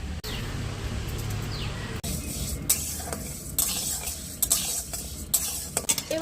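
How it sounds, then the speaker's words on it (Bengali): Washed, sun-dried masoor dal dry-roasting in a kadai, with a steady soft rustling hiss under repeated sharp scraping stirs of the spatula against the pan, up close. "কড়াইতে আমি টেলে নেব।"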